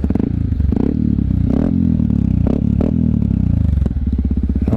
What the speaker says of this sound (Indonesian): Dan knalpotnya GP7 Tekken yang baru yang warna hitam.